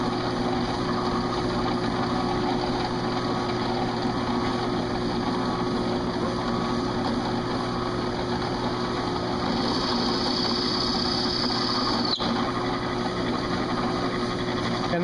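A drill with a Forstner bit boring shallow fret-dot holes into a guitar neck gives a steady, loud motor whine that runs throughout, with a brief higher shift near the end.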